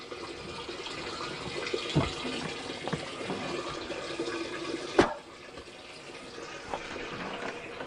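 Water rushes steadily from a caravan tap after a water pump replacement, a continuous close splashing flow with a couple of brief knocks and no talking over it.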